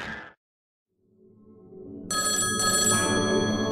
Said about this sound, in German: Das muss das Telefon sein.